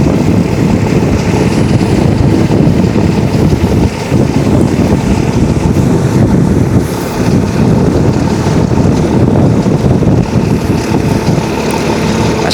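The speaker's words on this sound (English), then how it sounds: "it's quite windy here today" Strong, steady wind buffets the microphone with a constant low roar and rumble, continuous for the whole stretch, with faint water sounds underneath.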